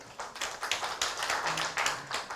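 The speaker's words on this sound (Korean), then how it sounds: "다시 한번 큰 박수 부탁드리겠습니다" Audience applause at a Gwangju urban regeneration forum and agreement signing, a steady patter of many hands clapping in a hall, fairly close and continuous.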